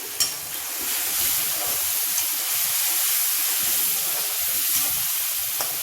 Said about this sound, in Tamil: இந்த தக்காளி நல்லா வேகணும், வதங்கணும், அது அளவுக்கு வதக்கிக்கோங்க